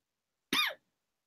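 One short, sharp cough bursts out in near silence, close and fairly loud, lasting about a quarter of a second.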